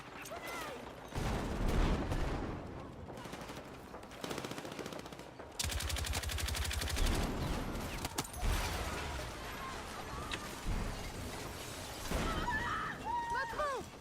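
Battlefield 6 gunfire: bursts of rapid automatic shots and scattered single cracks, with one dense close volley midway, amid battlefield clatter and a player talking throughout.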